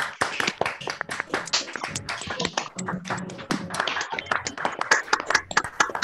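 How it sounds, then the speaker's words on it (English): Many people on an online video call clap their hands at once after unmuting, a dense scattered patter of claps with a few voices mixed in. "Everybody please unmute and clap your hands."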